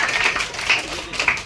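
A crowd of fans claps at a birthday celebration for a film hero in Nellore. The short burst of applause is lively and close, with a few voices underneath.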